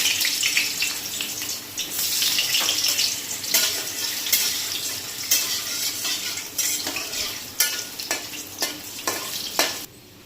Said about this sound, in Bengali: আলুটাকে ফ্রাই করে নিই।